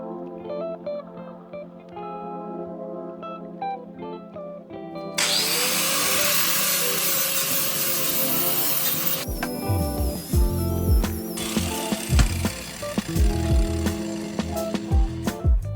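A CNC machine cutting a steel camper jack bracket in a workshop, starting with a steady tonal hum, then a loud harsh cutting hiss that turns into rough grinding and clattering toward the end.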